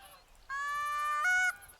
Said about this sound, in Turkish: kazlar yavaş yavaş alanın etrafında dönmeye başladılar